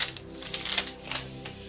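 Card game packs being slit open with a 1 mm Jim Dunlop nylon guitar plectrum, giving quick, close crinkly tearing and scratching bursts of wrapper plastic, with no talk.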